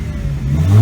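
A 1992–97 Ford Thunderbird 3.8 V6 with a 3-inch high-flow exhaust gives a short, deep rev that swells to a louder low rumble at the end.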